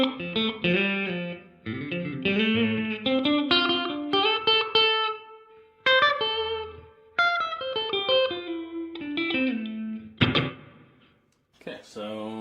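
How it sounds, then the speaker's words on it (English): Electric guitar plays picked notes and chords through a Donner 2-in-1 reverb and delay pedal set to a bigger plate reverb with decay halfway, each phrase leaving a lingering tail before brief pauses. "Okay, so it's a bigger plate reverb. I've got midway through for the decay."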